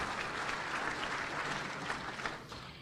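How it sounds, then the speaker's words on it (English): Steady applause from the audience at a HASP monthly program meeting, a dense, continuous patter of many hands clapping at moderate volume throughout, with no talk over it. "Let's give all of our guests a round of applause"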